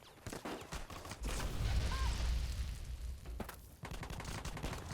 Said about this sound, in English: What is shooting me?